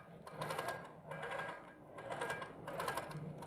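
An embroidery sewing machine stitches tie-offs in a fast, close mechanical whir that pulses in regular bursts about once per second.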